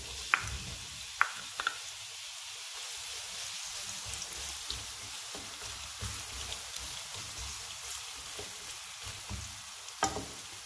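Chopped onion sizzling in hot oil in a frying pan, a steady close crackle with sharp pops and spits scattered through it and no voices.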